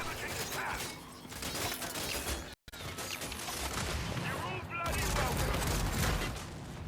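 Gears 5 Horde combat with the Boomshot explosive launcher, rapid bursts of gunfire and mechanical clatter under ongoing battle noise, with a brief dropout midway and a louder barrage near the end.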